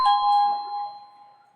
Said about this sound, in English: And now I plug in the chime or receiver.